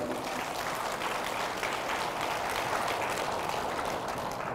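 Church congregation at a prayer and healing retreat in Seosan claps together in sustained, dense applause that stays even and loud throughout, with no break.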